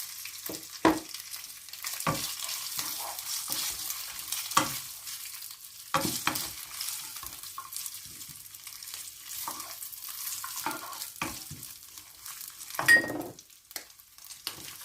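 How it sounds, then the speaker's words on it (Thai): Crispy fried pork belly tossed with golden garlic in a hot pan, a low steady sizzle broken by repeated sharp spatula scrapes and clacks at irregular intervals, no speech. "แล้วเราก็ใส่หมูค่ะ หมูที่เรา ทอดไว้แล้วนะคะ หมูทอดกรอบ"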